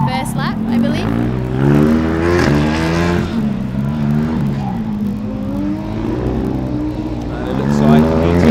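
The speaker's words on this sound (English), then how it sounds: "car number 21 is just waiting for the green flag. They're out for their rerun." A Formula Student race car at an autocross event, its engine droning and revving in rising and falling sweeps, loud and fairly close, while a commentator talks over it throughout.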